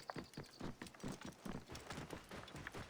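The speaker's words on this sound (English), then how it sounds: "switch from the camel to a horse because they are faster" A horse's hooves clip-clop at a steady trotting rhythm in the Assassin's Creed Origins video game, a quick regular series of soft, close hoofbeats heard alone.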